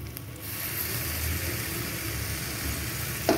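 Sour curd hits hot spices frying in a pan, giving a steady, close broadband sizzle that holds evenly throughout, ending with a brief clatter.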